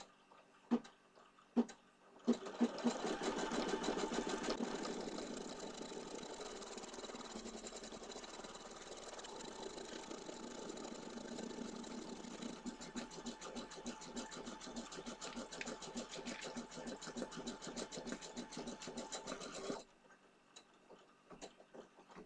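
An embroidery sewing machine stitches with blue thread in a fast, even mechanical chatter of needle strokes. It starts abruptly after a few clicks, runs steadily for about seventeen seconds, then stops, and a few more clicks follow.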